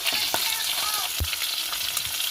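Fish heads crackle and sizzle in a frying pan under a steady hiss, with a few sharp taps and scrapes from a utensil turning them. The sound is close and there is no talk.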